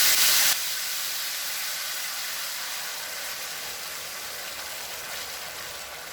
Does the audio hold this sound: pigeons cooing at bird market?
no